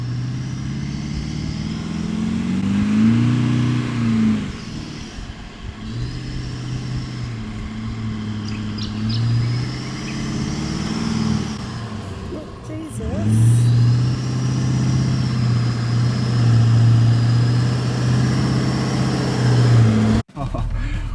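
A 4x4 engine works hard and revs while towing a 3.3-tonne caravan through very soft beach sand off-road, a loud steady drone rising and falling in pitch for about twenty seconds with a brief drop near the end.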